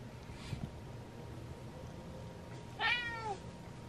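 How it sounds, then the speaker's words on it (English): A house cat gives a single short, fairly close meow near the end after a long, quiet stretch with only a faint earlier chirp over low background hum. "Another cat."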